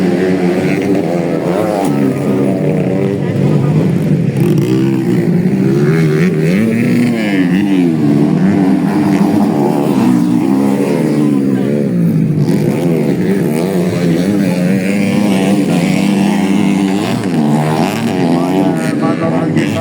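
Motocross bikes race on a grasstrack in Belilas, Riau, their engines a continuous droning, revving roar that rises and falls, with a commentator talking over it throughout.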